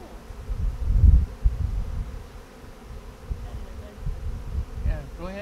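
A dense swarm of honeybees from a hive being transferred out of a wood cavity hums in a loud, continuous buzz nearby, swelling and easing with movement.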